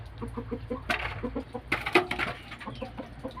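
Chickens cluck in quick, repeated bursts close by, several birds chattering at once with a sharper squawk near the middle.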